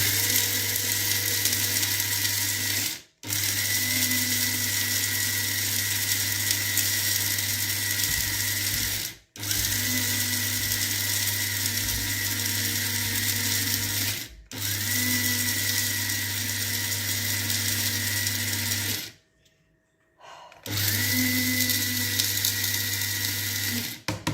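Blender grinding dried herbs into a flour-like powder, a loud continuous motor whine running in long bursts separated by brief pauses.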